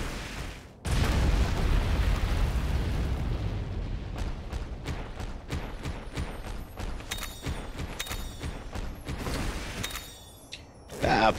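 Explosions from bombs in the video game Monster Hunter Stories 2: a loud boom opens, followed by a long series of sharp pops and bursts with rumbling tails, ending in another loud burst.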